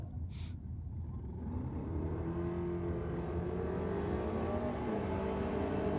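Drag race cars, a Holden Commodore against a Torana, run at a Sydney championship round, a steady loud engine roar that builds and holds with rising and falling harmonic tones from mid-distance, with no talking.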